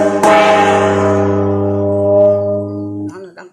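A Co gong struck once in a slow guest-welcoming rhythm rings out loud and close, its metallic tone sustaining for about three seconds before it is damped, with faint voices at the end.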